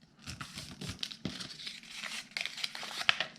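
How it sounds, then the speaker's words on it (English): A piece of paper being folded over while making a planner holder, close soft crinkling and rustling with small scattered crackles and creases, no talking. "So now I'll take this piece and I'm going to fold it over just like this."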